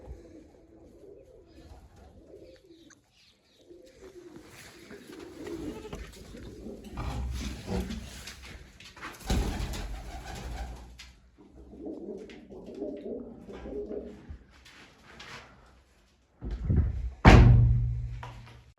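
Several pigeons kept in a loft, including red-footed and black-tailed birds, coo in low murmuring bursts at close range, with a louder burst near the end.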